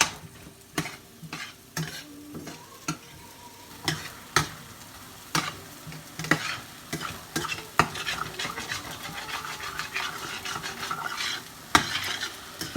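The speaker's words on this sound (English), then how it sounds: "So I'm over here making sure this rice browns really good." Rice browning in a good frying pan, a soft steady sizzle punctuated by frequent sharp scrapes and clacks of a utensil stirring against the pan, close and fairly quiet.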